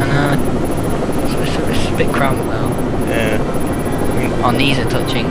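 A steady, loud helicopter drone runs throughout, with people talking over it, in the video game Rainbow Six Vegas.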